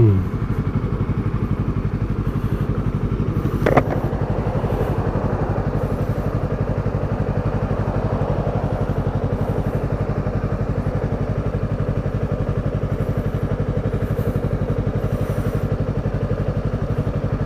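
A motorcycle in neutral after a downshift from third to second idles close by with a steady, throbbing low rumble and a brief clatter, while a voice speaks over it.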